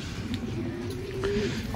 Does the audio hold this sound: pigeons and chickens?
yes